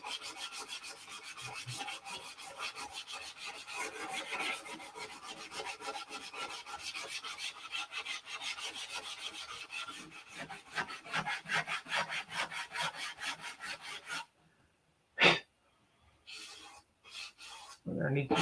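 Sanding the doped paper skin of a P-47 model aircraft, a steady run of rapid rubbing strokes close up, then a few brief scrapes after a pause near the end.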